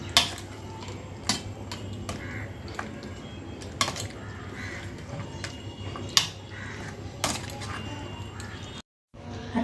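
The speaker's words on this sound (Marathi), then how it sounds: "आता आपण ती थोडी स्मॅश करून घेऊया. त्यात आपण घाटून घेऊया ती." Steamed taro leaves and stalks being mashed in a metal pot for a traditional Maharashtrian dish, with repeated scraping, clinking and thudding strokes at an irregular rhythm, close and moderately loud with no talk.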